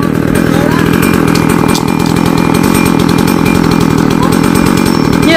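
A small, low-powered chainsaw with a short bar bogs down as it cuts into a large eucalyptus tree in a cramped spot, its engine buzzing loud and continuous with a pulsing rhythm, and a voice talking over it.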